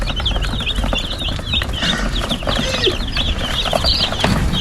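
Chickens cluck continuously on a farm, a busy overlapping chatter of many birds at close range, loud and steady throughout with no talking.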